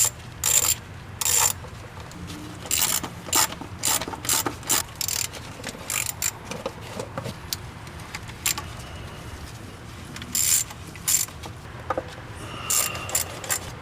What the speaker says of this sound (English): There is 3 on the top and 4 on the bottom, so I'm going to take those off real quick